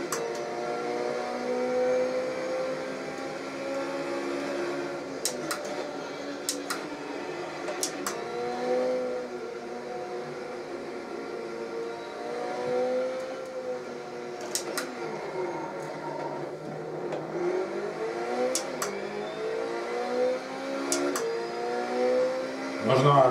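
A racing video game car lapping the Curitiba track in Brazil, its engine whining through steady rising and falling gear sweeps with occasional sharp clicks, moderately quiet under someone speaking over it.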